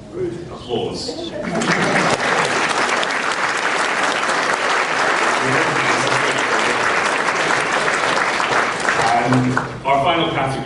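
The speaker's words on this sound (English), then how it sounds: "Applause." Applause fills the hall at an awards ceremony for an award winner, a sustained, loud burst of clapping that starts after a brief voice and runs until near the end, where talk returns.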